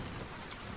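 Steady rain falls outside with a thunderstorm, a dense, even hiss of downpour filling a brief moment, with no talk.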